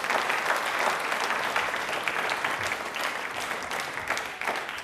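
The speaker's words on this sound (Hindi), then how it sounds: "हम सब जोरदार तालियां वापस से बजाएंगे।" A studio audience at a program marking Dr. Bhimrao Ambedkar's birth anniversary gives loud, sustained applause, the dense clapping continuing evenly and tapering slightly at the end.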